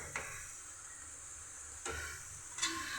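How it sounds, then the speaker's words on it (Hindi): A spoon stirs idli shakshuka in a pan, made without onion or garlic, with soft scraping strokes and a faint sizzle at three separate moments, quiet and close. "हमें अब इसे मिक्स करना है, मिक्स।"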